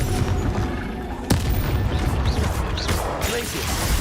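A Confringo fire-curse blast from the Hogwarts Legacy video game: a sharp, loud burst strikes over dense, continuous combat din, with a second smaller crack shortly after.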